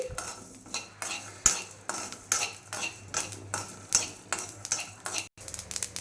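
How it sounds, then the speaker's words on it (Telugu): Whole spices and dry coconut pieces fry in a pan while being stirred, with repeated scraping and clinking strokes in a steady rhythm and a faint crackle underneath, fairly quiet and close. "ఈ విధంగా ఫ్రై అయితే సరిపోతుంది. చిటపట్లాడుతున్నాయి కదా"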